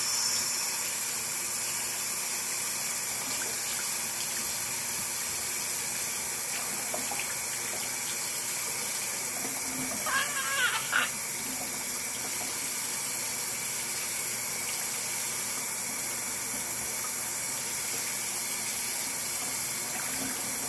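Water from a tap runs steadily into a sink while a wound is washed, a continuous close hiss with a brief splashing change near the middle and no voices.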